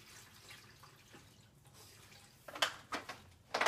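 Water is poured from a gallon jug into a container in a kitchen, starting with faint trickles and then building into a few louder splashing bursts near the end.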